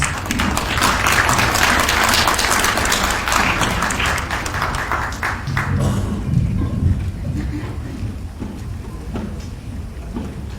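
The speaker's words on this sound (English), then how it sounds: "please give her a round of applause as she comes to speak to us" An audience applauds as a woman comes up to speak, dense clapping for about six seconds that then thins into scattered claps, with footsteps or low thuds and a murmur of voices as it fades.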